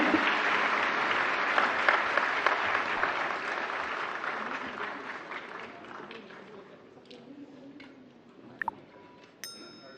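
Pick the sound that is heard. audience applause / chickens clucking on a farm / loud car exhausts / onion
audience applause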